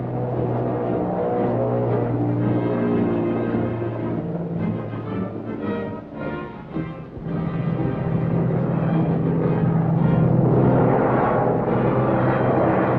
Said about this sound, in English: crewmen cheered as one plane after another screamed down the swaying runway.